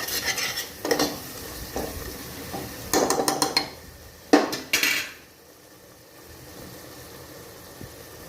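Masala roasting in a pan on a low gas flame, with bursts of a spoon scraping and clinking against the metal pan over a soft, continuous sizzle that fades to quiet near the end.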